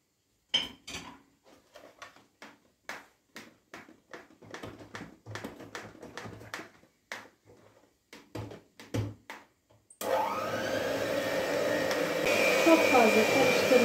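Revani batter worked in a bowl: first a run of separate clinks and taps from a utensil against the bowl, then an electric hand mixer starts and whirs loudly and steadily for the last few seconds.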